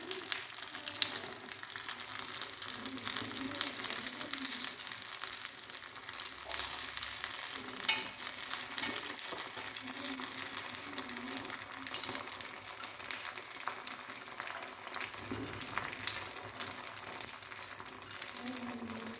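Neyyappam fry steadily in a hot appam pan after flipping, a soft continuous sizzle and bubbling crackle, fairly quiet and unbroken throughout.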